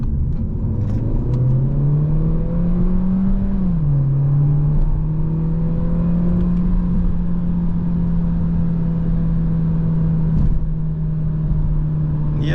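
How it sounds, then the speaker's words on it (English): Audi A3 35 TFSI Limousine 2022 (150HP) accelerating in sport mode, the engine note climbing steadily through the revs with a brief dip at a gear change, then holding a strong droning pull, heard from inside the cabin. "But when you put this A3 in sports mode, you can actually feel and hear the difference in the dynamic mode."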